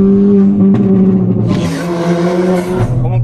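A Ford Fiesta ST200 with a 1.6 engine pulls hard, its loud close engine note rising through the revs, dipping briefly as it shifts, then climbing again with a strong roar and some tire noise.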